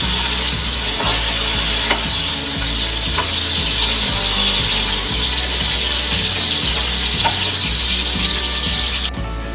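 Onions sizzle steadily and loudly in hot oil for mutton yakhni pulao with whole black pepper, a dense continuous frying hiss with faint stirring scrapes throughout.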